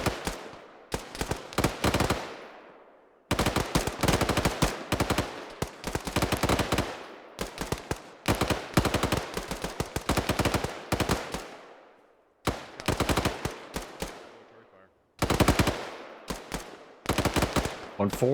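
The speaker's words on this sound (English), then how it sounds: "Let's go, machine gun teams. I want to hear those 240 singing." M240 machine guns fire repeated loud bursts during squad training, each volley a rapid hammering chatter followed by a ringing tail and brief silent gaps between bursts.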